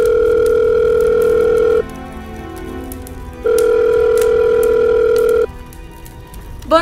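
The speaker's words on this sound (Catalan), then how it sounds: "Trau el mòbil i crida al 112." A mobile phone places an emergency call to 112 during a riverside fire on the Túria: a loud steady ringback tone pulses in two long bursts separated by a gap, with no speech, ending in a faint click.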